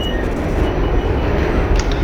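A New York City subway train on the Astoria-86th line runs steadily in the OpenBVE simulator game, producing a loud continuous low rumble of wheels and motors, with a faint squeal and rattle near the end and no talk.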